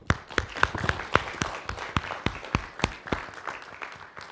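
An audience at an Indian HR convention and awards event claps together as practice applause, with sharp, fairly regular claps over a steady bed of hall noise for about four seconds.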